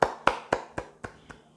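Clapping during a church sermon: six sharp, evenly spaced hand claps, close and distinct, each a little softer than the one before until they fade out.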